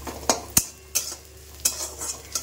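Maggi noodles with capsicum are stir-fried in a pan: a faint sizzle runs under sharp, evenly spaced scrapes and clinks of a spatula against the metal.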